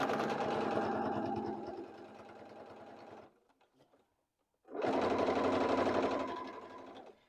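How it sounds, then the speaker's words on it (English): A sewing machine topstitches faux leather trousers fabric in two steady, close runs of rapid whirring, separated by a brief near-silent pause. "starting on the right side of the fabric, I'm going to just do a top stitch."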